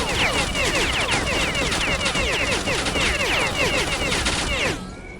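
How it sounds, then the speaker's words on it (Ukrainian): Rapid machine gun fire in the S.T.A.L.K.E.R. Clear Sky video game, a dense, loud burst of sharp cracking shots lasting several seconds before it cuts off abruptly. "у нього там кулемет чи що"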